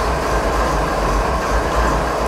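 A train in Train Sim 2015 rolls along the main line with a loud, constant rumble of wheels on rails and a steady low drone, with no break and no voices.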